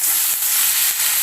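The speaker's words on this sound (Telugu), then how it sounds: "ఫ్రై చేసేసుకుందాము. బాగా కుక్ అవ్వాలి." Mint, carrot and green peas frying in a hot pan for Bangalore bisi bele bath, giving a steady, loud, close sizzle with no talking.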